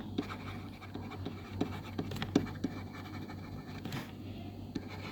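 Pen scratches on paper in short, irregular strokes while working an accounting problem, quiet and close, with faint room noise and no talk.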